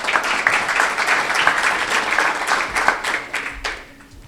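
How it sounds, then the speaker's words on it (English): Warm applause from a conference audience in Leeds, a dense patter of many hands clapping close and steady for a few seconds before thinning out at the end. "So warm round of applause for Alan from Springboard, please."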